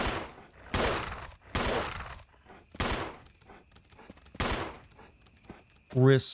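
Gunshots from Resident Evil Remake while playing as Chris Redfield: five or six loud, separate blasts spaced roughly a second apart, each with a short decaying tail, followed at the end by a brief burst of voice.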